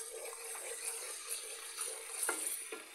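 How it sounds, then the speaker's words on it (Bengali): Mustard oil poured into a kadai for making olive pickle, giving a faint, steady hiss and trickle that goes on without a break. "প্রথমে আমি কড়াইয়ের মধ্যে তেল দিয়ে দিলাম"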